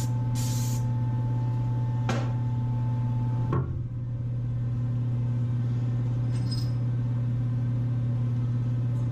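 Anti-spatter spray hisses from an aerosol can in short bursts, three or four quick sprays before welding in a workshop, over a steady low hum of shop equipment.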